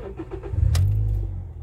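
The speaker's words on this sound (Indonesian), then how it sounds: "Sekarang kita nyalakan mesinnya." A manual 2010 Toyota Yaris E hatchback starts with a short starter crank that fires into a low engine roar, then settles toward idle, loud and close within under two seconds.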